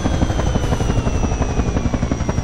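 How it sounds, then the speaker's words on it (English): Helicopter in the video game Garry's Mod: loud, close rotor chop with a rapid steady beat and a high whine above it, alone without talk. "I finally managed to land a helicopter."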